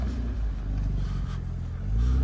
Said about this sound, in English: The little gearbox wine, I heard that. I love that in the classic Minis.